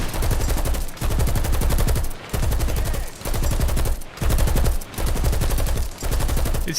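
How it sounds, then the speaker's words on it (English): Coaxial machine gun on a Soviet tank firing in War Thunder, loud sustained rapid bursts broken by brief pauses roughly every second, close and dominant. "look at that coaxial go"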